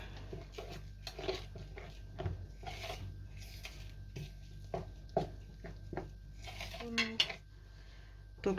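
Metal spoons scrape and tap quietly against a bowl as coconut flakes are scooped, a series of soft clinks and rasps at close range.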